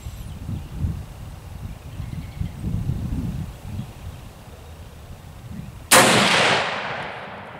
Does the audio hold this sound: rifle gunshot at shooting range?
yes